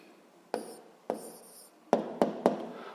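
Pen on paper while writing down an answer in a 7th-grade physics exercise: a few short scratchy pen strokes and taps, close and quiet, spread across a near-silent room.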